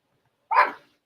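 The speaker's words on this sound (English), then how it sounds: "Maxi, can you help with the dog" A single short, sharp dog bark, close and loud against silence.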